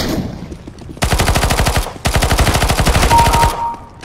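Automatic gunfire from a weapon in Counter-Strike: Global Offensive rattles out in two loud, rapid bursts of evenly spaced shots, a brief gap between them, then a short tail-off.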